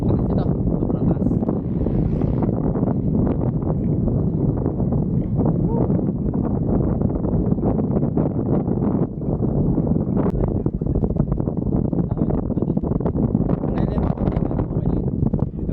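Strong wind buffeting the microphone on a high lookout at an adventure resort, a dense, continuous roar with gusty surges throughout and no clear voices.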